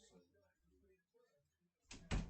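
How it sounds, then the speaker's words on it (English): A door is pulled shut indoors, ending in one sharp, loud thump after a stretch of quiet room noise and faint movement. "I'm just going to close the door."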